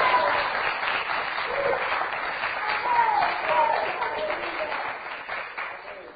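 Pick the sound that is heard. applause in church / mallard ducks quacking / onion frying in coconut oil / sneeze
applause in church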